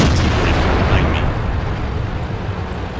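Tank cannon fire in the video game World of Tanks, aimed at a T34, comes as a heavy booming blast that rolls into a dense, sustained rumble slowly fading over a few seconds.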